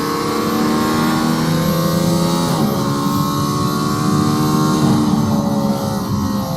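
Mercedes-AMG ONE hypercar accelerating hard out of a track's final corner, its engine note climbing loudly and continuously with brief dips at gear changes, heard from inside without talk.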